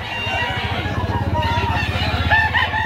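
Gamefowl rooster crowing loudly and up close, a sustained crow carried over steady background noise.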